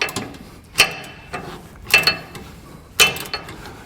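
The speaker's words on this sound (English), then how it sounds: "I'm going to go ahead and tighten all of these down." A ratchet wrench tightens bolts on the mounts of Firestone Ride-Rite Red Label Extreme Duty air helper springs, giving three sharp clicking bursts with quieter ratcheting between them, close and fairly loud.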